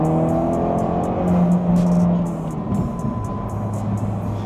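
A Ford Focus RS hot hatch's engine pulls hard after a downshift, a loud, steady drone from close by with no voices.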